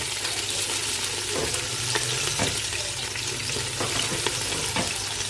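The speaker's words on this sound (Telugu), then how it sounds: "బాగా ఎర్ర కలర్లోకి వచ్చేలాగా, బ్రౌన్ కలర్లోకి వచ్చేలాగా ఫ్రై చేసుకోవాలి." Onions fry in ghee with biryani spices in a pan, a steady close sizzle with occasional stirring scrapes and clinks throughout, no talking.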